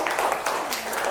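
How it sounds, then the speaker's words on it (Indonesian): Scattered, light applause from a primary school class for a student group, a soft continuous patter of many small hands at moderate level. "Tepuk tangan buat kelompok 4."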